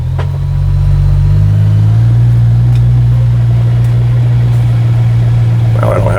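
Engine of a 2026 CFMOTO U10 PRO XL Highland enclosed side-by-side running close by, a loud steady low drone with a slight rise in pitch early on.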